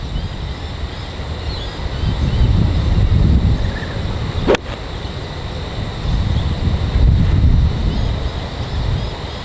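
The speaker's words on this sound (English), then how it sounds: "It's very windy here today" Steady wind roars and buffets the microphone outdoors at a golf practice area, low and rumbling, with one sharp click partway through and no talking.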